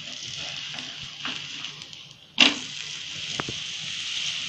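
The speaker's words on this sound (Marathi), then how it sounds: "याला आता पलटी मारून घेऊया आपण" Mixed-flour dhapate flatbread roasts in a little oil on a pan over low heat with a steady hissing sizzle, then a sudden loud slap as it is flipped, after which the sizzle resumes with a few light taps.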